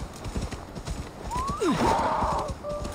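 Horse in the Assassin's Creed Valhalla video game, hooves clip-clopping at a gallop before a loud, close whinny rises and falls over a steady game backdrop.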